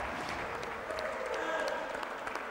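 Crowd applauding at an outdoor beach volleyball final at the US Open, a steady, moderate wash of clapping from spectators that continues throughout, with some faint voices mixed in.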